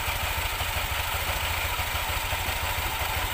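A motorcycle engine idles after clutch spring and center spring replacement, a steady, close, loud throbbing chug with rapid even pulses and a rattling clatter, nothing else heard.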